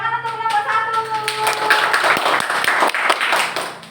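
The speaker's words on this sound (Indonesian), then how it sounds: "Tepuk tangan untuk kelompok 1" Pupils in a classroom applaud a group with a quick burst of lively hand clapping, near and dense, starting over a brief musical tone and continuing steadily for a few seconds.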